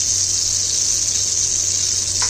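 Panch phoron spices frying in the oil left from frying prawns, a steady close hiss and sizzle holding at even loudness throughout with no talking.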